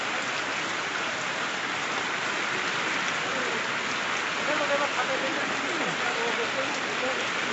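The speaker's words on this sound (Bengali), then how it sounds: "প্রচুর বৃষ্টি হচ্ছে।" Heavy rain pours down in a continuous, dense, close hiss of drops striking surfaces, steady from start to finish with no letup.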